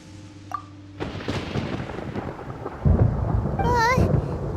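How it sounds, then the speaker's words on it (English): Thunderstorm with rain in the video game Genshin Impact, a deep rumble of thunder building over steady rainfall, with a brief high whistling game effect near the end. "Paimon hears thunder!"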